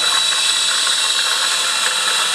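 Electric motor with a clutch running on a frequency regulator, a steady loud high-pitched whine and hum that holds even throughout the short stretch, no speech.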